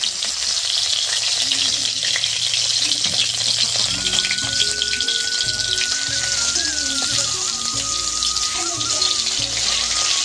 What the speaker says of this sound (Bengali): আর এখানে টমেটোটা ভেজে নিচ্ছি